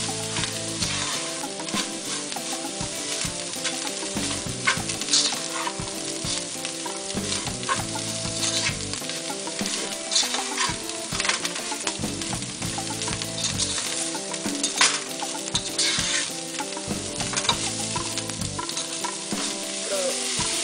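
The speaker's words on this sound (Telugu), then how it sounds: "ఒక చిటికెడు పసుపు వేసి ఇవన్నీ బాగా కలపాలి" Cauliflower pachadi mixture with chili powder and turmeric sizzles and fries steadily in a hot pan while a spoon stirs it continuously, loud and close with no talking.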